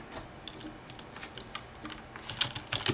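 Typing on a computer keyboard, a quick run of light, close key clicks in an irregular rhythm, growing slightly denser toward the end.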